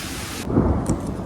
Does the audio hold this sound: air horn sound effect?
no